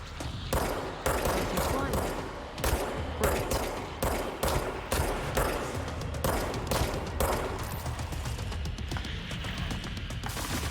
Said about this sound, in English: So let's do some shooting